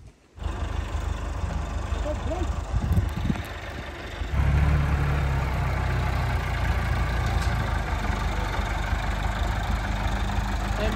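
A tractor engine idles steadily in a low, continuous rumble while it is loaded during a mountain cattle drive, and the rumble grows slightly louder partway through.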